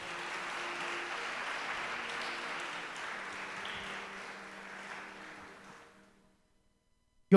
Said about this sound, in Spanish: Le da palmas fuertes al Señor por esto.